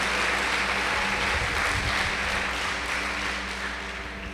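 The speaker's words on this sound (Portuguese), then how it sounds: "Se é para Jesus, pode aplaudir." Congregation applauding at a church service, a dense wash of clapping that stays steady and fairly loud before tapering slightly toward the end.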